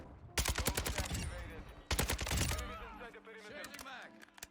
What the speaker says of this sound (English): This gun is so nasty.